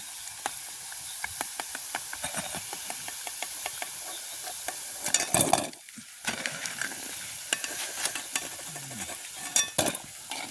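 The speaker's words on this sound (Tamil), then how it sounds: "எல்லாம் பொறிஞ்சிடுது வடை நாங்கள் வடிச்செடுப்போம்" Rava vada deep-frying in hot oil in a village kitchen, a steady crackling sizzle with rapid popping bubbles, close and continuous, briefly interrupted by a louder scrape and hiss midway.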